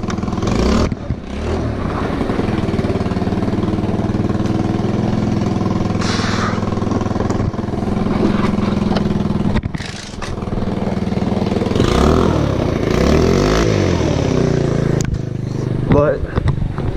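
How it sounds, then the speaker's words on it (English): A motorcycle engine with a new muffler runs close by for the whole stretch, idling steadily with a few blips of revving, while a person talks over it. "Tell me if y'all like the muffler now."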